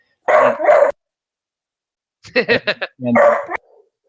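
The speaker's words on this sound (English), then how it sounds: "So my dog is barking now as well." A dog at home barks in a few short bursts, close and fairly loud, with a pause between volleys and no talk over it.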